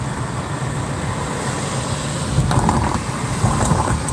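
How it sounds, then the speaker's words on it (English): A car rolling over a historic brick street in Irvington beside a slow-moving vehicle, giving a continuous rough tyre rumble that grows louder and bumpier midway, with no talk. "you can hear the car next to me going over the bricks"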